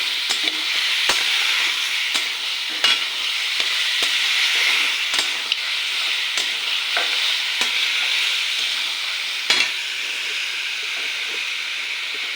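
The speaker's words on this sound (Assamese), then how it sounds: "চিকেনটো এতিয়া ফ্ৰাই কৰি লৈ আছোঁ মই" Chicken fries in a hot pan with a steady bright sizzle, punctuated by sharp clacks of a spatula scraping and stirring at irregular intervals, close and loud.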